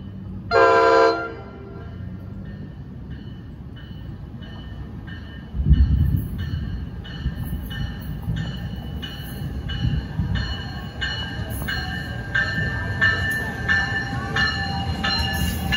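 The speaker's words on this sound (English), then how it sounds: "Another train to New York. This one should be stopping here." An NJ Transit express train rushes through North Elizabeth station in New Jersey, opening with a short loud horn toot, then a long steady roar of wheels and rattling cars that builds and holds close by, with faint squealing.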